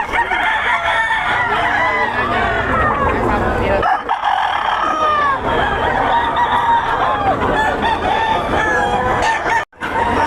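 Roosters at a festival expo crow repeatedly and loudly, with clucking from many birds, amid a busy crowd and people talking nearby.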